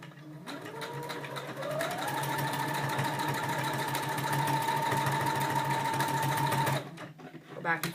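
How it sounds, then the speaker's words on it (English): A sewing machine runs steadily for several seconds, tacking down cased elastic by stitching back and forth, then stops abruptly, with a brief rustle at the end. "Go back and forth 2 or 3 times to make sure that elastic is sewed down really good"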